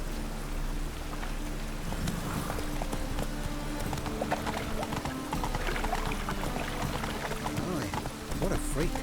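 Horse hooves galloping in The Witcher 3 at a steady driving rhythm, mixed with rain-like game ambience and music, with talk over the sound.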